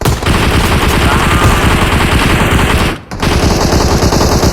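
Sustained automatic machine gun fire from the PUBG Mobile shooter game rattles loud and continuous, with a brief gap near the three-second mark before the burst resumes.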